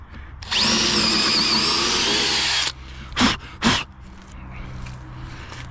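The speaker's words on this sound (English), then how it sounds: "And then we're gonna drill right here." A power drill whines loudly for about two seconds, then gives two short bursts before stopping.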